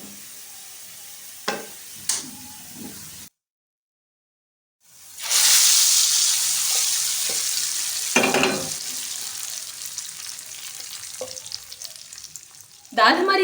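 Red chillies frying in hot oil for a dal tempering give a loud, steady sizzle lasting several seconds, with a few stirring scrapes and light knocks before and during it.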